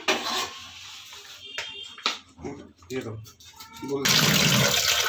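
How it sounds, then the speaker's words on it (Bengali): Tap water runs while raw chicken is rinsed in a kitchen, with splashing and rinsing sounds amid voices, then a louder steady gush of running water near the end. "চিকেনটা বেশ ক্লিন করাই রয়েছে তাও একটু ধুয়ে নিচ্ছে"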